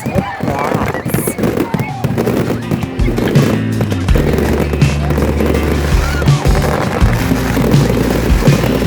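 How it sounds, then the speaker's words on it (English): Fireworks burst over Oido Beach in South Korea on a summer weekend evening, a loud continuous barrage of crackling pops and booms with crowd noise and voices mixed in throughout. "The fireworks! We never expected that, but it was absolutely a surprise."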